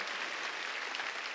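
Church congregation clapping together during an Easter Sunday worship service, a steady dense wash of applause with no voices standing out.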